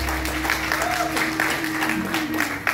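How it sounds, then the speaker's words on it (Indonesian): Applause from an audience at a wayang orang performance celebration, a dense steady patter of clapping filling the room for a few seconds with a faint murmur of voices mixed in. "Kita beri tepuk tangan untuk mereka."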